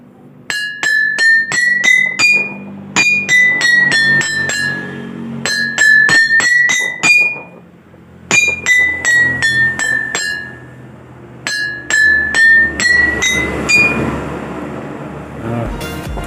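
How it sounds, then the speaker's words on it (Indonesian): Glass bottles holding different levels of water struck one after another, ringing clinks at varying pitches in quick rhythmic runs separated by short pauses, loud and close. "saya mulai saja melakukan kegiatan praktik dengan cara memukul masing-masing botol secara bergiliran"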